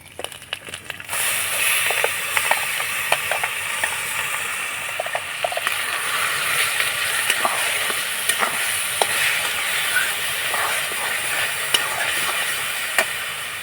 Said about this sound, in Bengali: ফোড়নটা নাড়াচাড়া করে একটু ভেজে নিয়েছি এবার গ্রেট করা গাজরগুলো দিয়ে দেবো